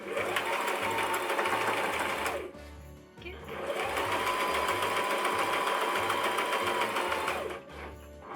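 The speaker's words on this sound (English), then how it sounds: "I just like to back stitch over this to make sure it's in place." A sewing machine back stitches a fully lined mini stocking, running in two long, loud, steady mechanical bursts separated by a short pause, with another brief stop near the end.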